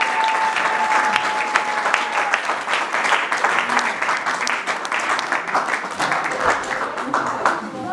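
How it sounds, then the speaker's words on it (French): Wedding guests applaud the newlyweds with steady, full clapping that lasts throughout, with a brief tone at the start and voices mixed into the applause. "Acclamez les mariés, acclamez les mariés."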